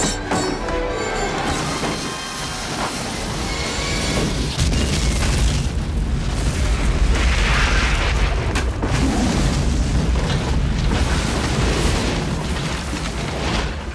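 Ship explosion from the film The Mask of Zorro, a loud sustained booming roar with rumbling debris and crashing under a dense film soundtrack, no speech.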